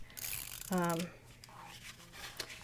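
A Kokio tape runner laying adhesive onto card paper for a card box, giving a single close, buzzy ratcheting zip of under half a second amid quiet table handling.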